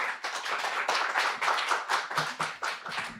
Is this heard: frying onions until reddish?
no